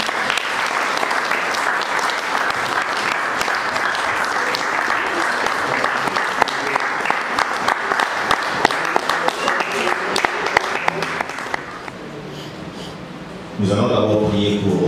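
Loud, sustained applause and cheering from a congregation during a French-language church service, running steadily for about twelve seconds before dropping off, with voices rising again at the end.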